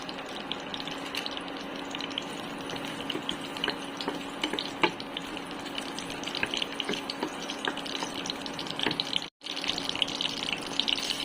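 String beans being rinsed in water in a home kitchen, a steady close splashing and sloshing with small clinks and stirring sounds running throughout, one brief dropout near the end.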